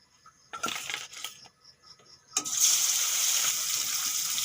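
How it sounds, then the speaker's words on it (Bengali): Rupchanda fish pieces rubbed with turmeric and salt dropped into hot oil, a couple of brief clatters and then a loud, continuous sizzle and crackle that settles into a steady hiss. "তেল গরম হয়ে গেছে মাছগুলো ভেজে নেবো"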